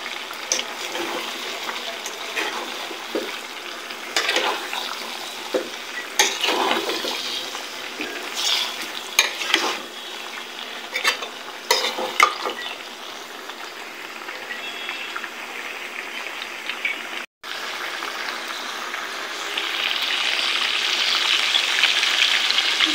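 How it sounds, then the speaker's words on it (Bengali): Potatoes fry with chicken curry in a pan, a steady watery sizzle with bursts of stirring and scraping, close, then brief quiet before the hiss resumes more evenly. "আলুটা দিয়ে আবার কিছুক্ষণ কষাবো, কষে তারপর ঝোলটা দিয়ে দেবো।"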